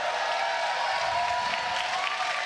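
Live crowd at a Fortnite tournament grand final at PAX West, a steady wash of applause and cheering, continuous and moderately loud, with no speech over it.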